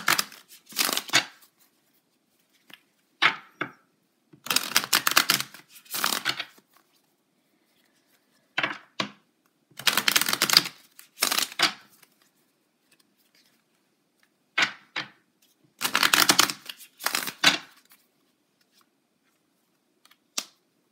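Tarot cards are shuffled and drawn in repeated bursts of crisp riffling and slapping, each lasting about a second or two, separated by quiet pauses, close and fairly loud with no talking.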